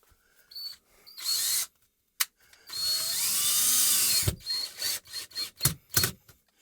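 A DeWalt drill drives anchors into a wall in close bursts: a short whir, then a longer run of about a second and a half, followed by several quick, choppy pulses and clicks, with no talking.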